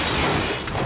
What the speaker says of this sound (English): I didn't know if that was a real car crashing or what